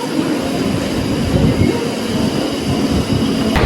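A London Underground train pulls into the Whitechapel station platform, loud and close, with a continuous rumbling roar, rattling carriages and a high wheel squeal above it.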